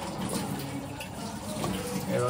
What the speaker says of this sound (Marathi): पूर्ण पाणी ऍड करायचं